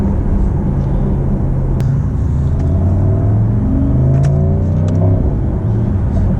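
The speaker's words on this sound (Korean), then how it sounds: "전형적인 이제 AMG 8기통 소리가 뒤에서 잘 나오고 있습니다" A Mercedes-AMG SL 63 4MATIC+ with a 4.0-litre V8, its exhaust flaps open in Sport Plus mode, accelerates hard. A loud, close, deep engine roar climbs steadily in pitch over the run as the revs rise.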